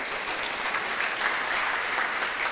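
Audience at a Bhagavatam class auction breaking into a big round of applause, a dense, sustained wash of many hands clapping, steady and fairly loud throughout with no distinct voices.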